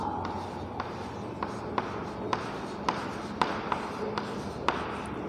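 Chalk or pen writing on a board makes a steady scratchy rasp, broken by sharp taps at regular intervals as strokes land, heard close up over a constant room hiss.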